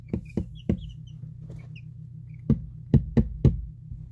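Pet chicks peep in short, soft bursts, heard alongside several sharp knocks and taps over a low steady hum, with no voices.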